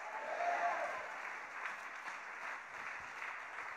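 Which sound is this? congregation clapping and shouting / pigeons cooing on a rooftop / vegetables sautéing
congregation clapping and shouting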